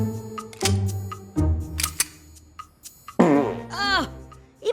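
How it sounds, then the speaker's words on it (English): Cartoon fart sound effects from an animated adult comedy series, a few short, loud bursts mixed with sliding, wobbly tones. Voices talk around them. "Oh, even his farts smelled like maple syrup."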